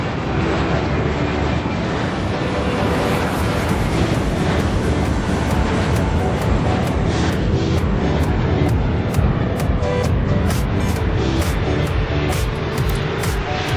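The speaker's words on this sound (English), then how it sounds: "Jet" Continuous loud jet engine roar from an air traffic control video game set at Anchorage airport in Alaska, a steady broadband rumble with no gaps throughout.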